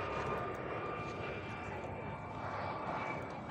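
A steady, continuous aircraft engine drone, most likely a helicopter passing overhead near Shatin, fills the whole stretch at a moderate, unchanging level with a faint tonal hum riding on it.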